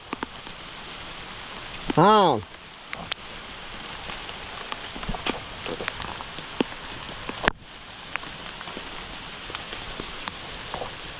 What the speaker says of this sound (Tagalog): inabutan po kami ng pagkalakas na ulan